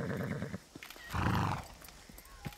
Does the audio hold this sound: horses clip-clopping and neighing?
yes